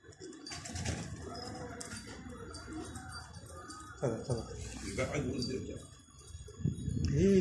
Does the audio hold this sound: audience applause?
no